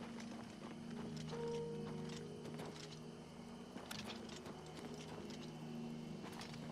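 Horse hooves clip-clopping in the video game The Elder Scrolls IV: Oblivion Remaster, faint irregular thuds under quiet game ambience and steady tones.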